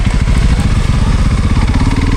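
Honda CRF300L motorcycle fitted with an airbox and 550 ECU modification, engine revving hard and loud up close, a continuous throaty rumble with rapid firing pulses.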